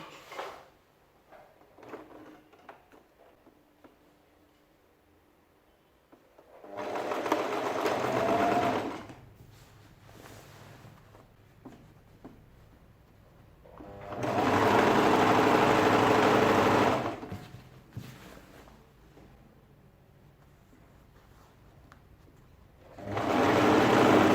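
A sewing machine runs a 1-inch seam on a ladies' shirt dress in three separate bursts of steady motor hum, each a few seconds long, with quiet pauses of fabric handling between them.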